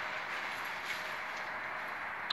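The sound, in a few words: trains passing near München Riem station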